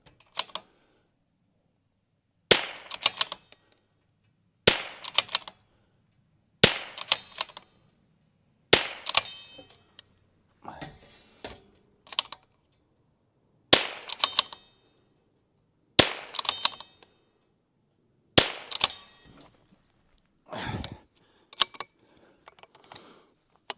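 A Rim-X firearm fires a series of sharp, loud shots during a 200-round reliability test, with about a dozen reports at uneven intervals and mechanical clicks and handling noise between them.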